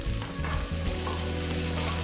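Coriander leaves sautéed with browned onions in a pan for chutney, giving a steady, close sizzle with scraping stir strokes throughout and no talking.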